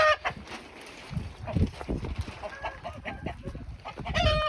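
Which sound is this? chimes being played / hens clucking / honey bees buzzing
hens clucking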